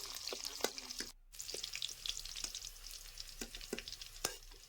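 Green chili and chopped onion stir-fry in hot oil for a vegetarian drumstick curry, a steady close sizzle broken by scraping stirs and one brief silent gap.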